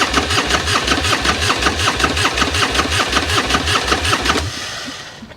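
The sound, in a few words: Plymouth Roadrunner engine cranking, trying to start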